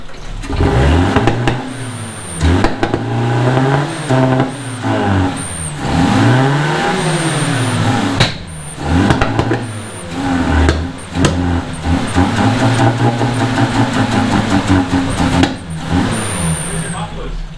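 A Datsun 620 pickup engine on newly installed Megasquirt fuel and spark control, loud and close, revs up and down in repeated sweeping bursts between rough idling, with excited voices talking over it.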